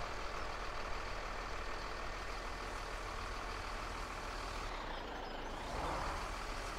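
Farming Simulator 17 truck engine droning steadily at a moderate distance, with a faint high reversing beep near the end, no voices.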